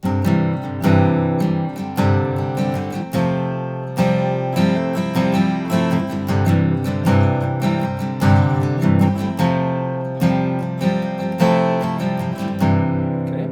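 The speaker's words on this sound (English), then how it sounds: "you can just add a couple of hammer-ons. Sounds like this," Strummed acoustic guitar chords with quick hammer-on flourishes, steady rhythmic strokes played alone, close and fairly loud.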